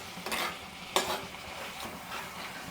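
Chicken vindaloo, a spicy home-style Kerala chicken curry, sizzles softly in a pan as a spoon stirs it in a few scraping strokes, with faint steady frying crackle underneath and no voices.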